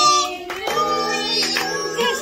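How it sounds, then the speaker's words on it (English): A group of people clap together at a birthday celebration, steady applause mixed with a tuneful voice and children's chatter in a lively indoor gathering. "Yes, everybody clapping."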